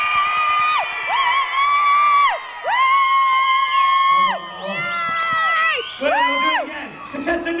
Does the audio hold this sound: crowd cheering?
yes